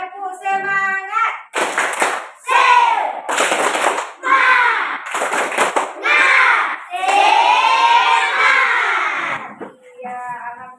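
Primary-school class of children doing a rhythmic spirit clap in a classroom, with bursts of claps and loud chanted shouts in a quick repeating pattern, and an adult voice heard at the start and end.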